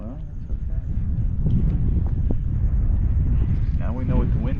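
Wind gusting across open water buffets the microphone with a heavy low roar and rumble, steady and close, while a person's voice comes through briefly near the end.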